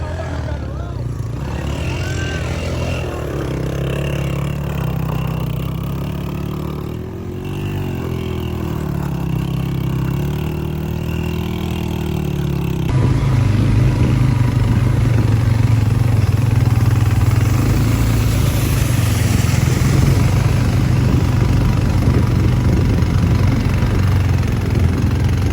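Honda motorcycle engine idling on a rough mountain track in Bashu Valley, Skardu, a steady mid-pitched putter that grows louder and nearer partway through, with voices speaking over it.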